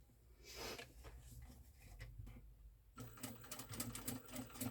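Sewing machine stitching knit fabric slowly, a steady mechanical whir with rapid needle ticks that grows louder and busier in the second half, with no talking.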